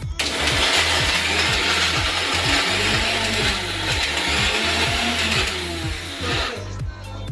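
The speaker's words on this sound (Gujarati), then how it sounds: "હવે મિક્સરમાં પીસી નાખવાની" A kitchen mixer grinder whirs through a chutney of sugar, salt and lemon, a loud steady roar running for several seconds before cutting off, with rhythmic music beneath.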